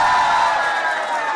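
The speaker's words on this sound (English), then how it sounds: "that is what a standing ovation sounds like" Comedy-show audience giving James Acaster a standing ovation, a dense burst of cheering and whooping from a large crowd, loud and brief, fading slightly at the end.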